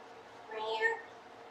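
A house cat gives a single short meow, moderately close, rising and falling in about half a second over a quiet kitchen background.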